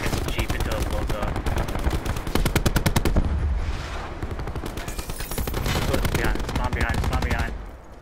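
Sustained machine gun fire raking a Jeep in a first-person shooter game, rapid bursts repeating loudly across the whole stretch, with a short lull in the middle before the firing resumes.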